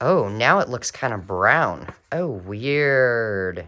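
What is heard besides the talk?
No distinct noise like a dog, phone or traffic.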